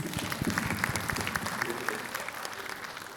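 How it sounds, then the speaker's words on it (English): An audience claps together in steady, dense applause for a few seconds, fairly loud and unbroken. "Round of applause for her and the team, please."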